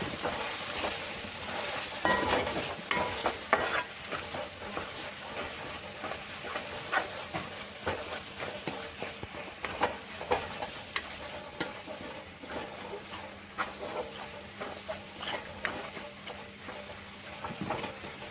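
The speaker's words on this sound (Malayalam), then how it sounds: "നമുക്ക് ഇളക്കി നന്നായി" Curry masala with chilli and turmeric powder stirred and fried in a pan for a Palakkad-style chicken and ash gourd curry: a steady close sizzle with repeated scraping stir strokes throughout, no talking.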